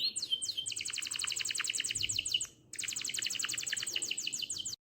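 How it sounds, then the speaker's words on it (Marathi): Birds singing by a riverside on an early monsoon morning: two rapid, bright trilling phrases from a nearby songbird, each lasting over two seconds with a brief pause between, over a soft outdoor background. "हो मस्त वेगवेगळ्या पक्ष्याचा आवाज येऊन राहिला"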